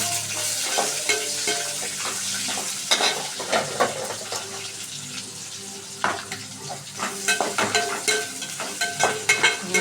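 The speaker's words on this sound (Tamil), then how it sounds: "வெங்காயம் நல்லா வதக்கிக்கலாம்." Onions sautéing in a pan after curry leaves, a close, continuous sizzle with an irregular run of stirring scrapes and clatters that grows busier toward the end.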